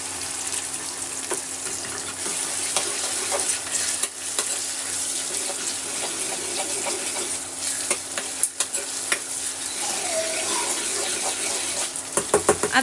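Tomatoes fry and sizzle in a pan for a spinach dal tempering, with a continuous hiss, scattered stirring clicks and scrapes, and a few sharp knocks toward the end.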